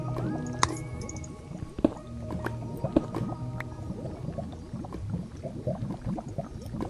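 Lava bubbling in a Minecraft cave, a dense run of soft wet blips and pops with scattered louder plops and brief tonal game sounds over it, continuous and close.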